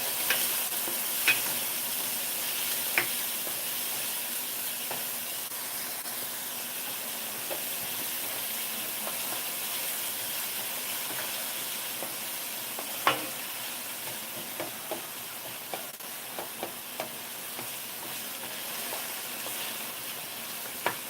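Salted onions fry over medium-high heat, keeping up a soft, continuous sizzle, with occasional light clicks and taps of a utensil against the pan.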